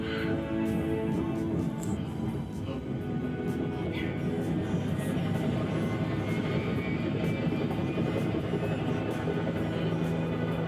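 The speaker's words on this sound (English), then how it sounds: "They would have heard that chopper long before they first heard it." A helicopter in the movie Alive drones continuously with a steady engine and rotor rumble throughout, a constant mid-level roar with some faint voices mixed underneath.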